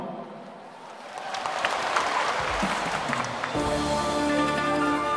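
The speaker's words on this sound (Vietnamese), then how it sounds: "dành một tràng pháo tay thật lớn để chào đón 39 thí sinh" A big round of applause from a beauty pageant audience greets 39 contestants at the start of the traditional áo dài round. The clapping builds from quiet to a full, sustained roar that carries on to the end.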